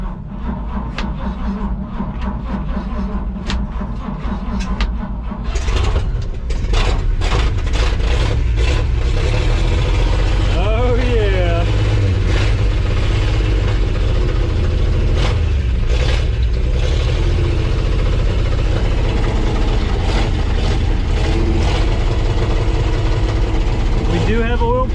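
A 1953 Chevy 4100 truck engine turns over and catches on choke, then idles roughly and revs unevenly up close, loud and rumbling with sputters and bursts, while a voice speaks over it.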